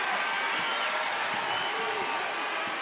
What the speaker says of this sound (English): a great round of applause for Durr